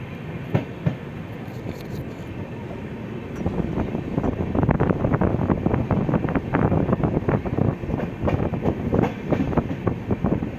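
A Lucknow–Chhapra Express passenger train runs along beside a river, its steady rumble swelling into a rapid clickety-clack of wheels over rail joints heard from on board, with some wind buffeting and no talking.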